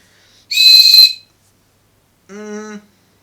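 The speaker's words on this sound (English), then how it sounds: "Has an emergency whistle built in, so let's give that a blow." An emergency whistle built into a survival kit ferro rod gives two short blasts, the first loud and shrill, the second shorter, lower and weaker, each alone against silence.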